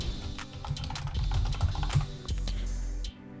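Quick, quiet keystrokes patter unevenly on a computer keyboard as a profile URL is entered, close and isolated, with a final key press before a brief stop.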